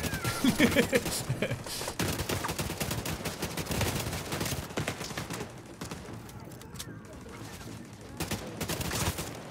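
Scattered gunfire from The Division 2, a dense, uneven fusillade of shots and bursts running throughout, loud and close, with a voice talking underneath at points.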